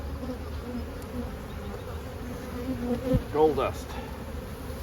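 Honeybees buzz around brood frames lifted from a nuc hive, a close, continuous droning hum with individual bees swelling louder as they pass near; a person briefly speaks under the buzzing.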